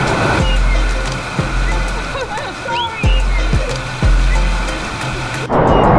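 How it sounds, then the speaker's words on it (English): Waterfall at Disney's Aulani resort in Hawaii, a constant close rush of falling water like heavy rain, with a few dull thumps and faint voices and squeals mixed in. "you have to go under the waterfall"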